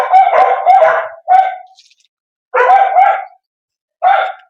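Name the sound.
dogs on a cow farm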